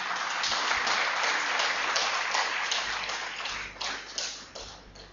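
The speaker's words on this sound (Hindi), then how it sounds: "मेरी गुजारिश है कि आप जोरदार तालियों से उनका स्वागत करें" An audience at a health talk gives a loud, sustained round of applause to welcome a speaker, a dense wash of clapping that thins out toward the end.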